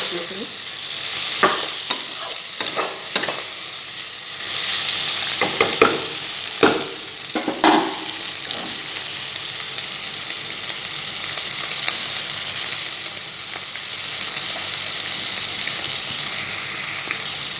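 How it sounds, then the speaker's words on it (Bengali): Soya chunks frying in a pan while being stirred, a steady close sizzle punctuated early by several sharp scraping strokes of the spoon, then settling into an even, quieter bubbling fry. "আবারও নাড়িয়ে দেবো।"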